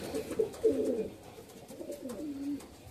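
Golden pigeons coo nearby in soft, low, throaty phrases, one longer burst followed by a quieter second call.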